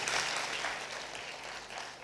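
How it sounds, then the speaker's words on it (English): Applause from a conference audience honoring a former cabinet minister at a national elections event: a broad, fairly soft patter of many hands clapping together, steady and slightly fading over a couple of seconds, with no talk on top. "I think we should give him a warm round of applause"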